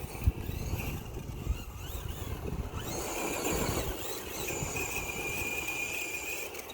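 Tamiya Blackfoot RC truck tearing across loose ground at full throttle, its small electric motor whining high and steady while the tires churn and scatter dirt, with the pitch climbing and shifting as it bounces along, no voices.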